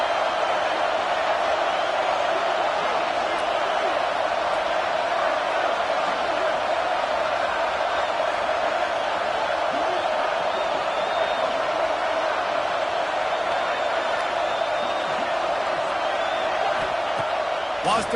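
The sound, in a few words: football stadium home crowd roaring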